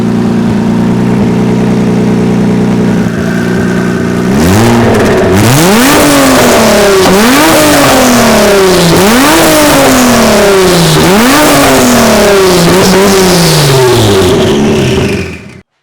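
A twin-turbo DeLorean engine idles steadily, then is revved repeatedly in rising and falling sweeps, loud and close, with no talking over it.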